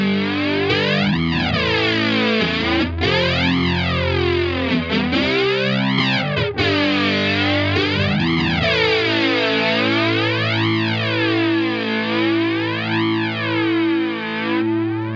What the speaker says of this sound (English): you'll be filtering what comes out of the distortion pedal, which is very not subtle